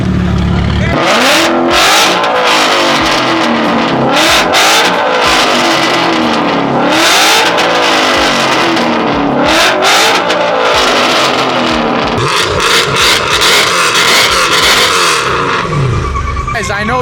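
A car engine, likely a Mercedes C63 or BMW E92 M3, revs loudly and repeatedly close by, surging and falling in pitch in a series of throttle blips, with people talking over it.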